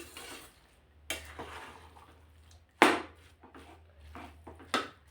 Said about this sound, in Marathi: याला सारखा असं हलवत राहायचं आहे म्हणजे सर्व जे तूप आहे ना ते छान एकजीव होईल